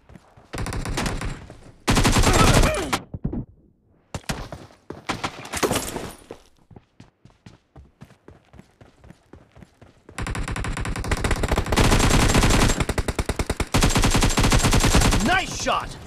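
Gunfire in a team deathmatch shooting video game on a Poco X3 Pro phone: loud, close bursts of rapid automatic fire alternating with single shots, building into long sustained volleys.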